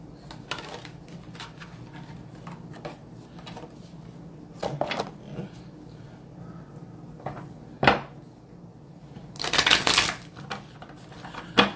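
Soul cards are shuffled and handled nearby, with light riffling and tapping clicks and a louder burst of shuffling near the end, with no talking.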